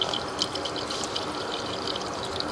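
Water pours and trickles into a sewer pipe where it dumps in at the edge of the exterior wall, a steady hiss and splash heard close inside the pipe.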